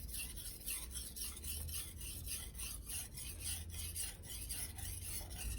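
An Aogami Super (Blue Super Steel) knife is sharpened on a Naniwa #1000/#3000 combination whetstone, giving a steady, close, rhythmic rasping scrape in repeated even strokes with no talking.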